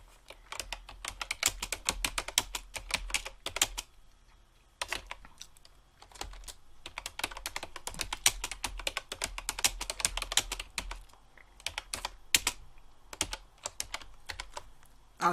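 A computer keyboard is typed on in quick, uneven bursts of close, crisp key clicks, with a few short pauses between runs of keystrokes, and no voices are heard.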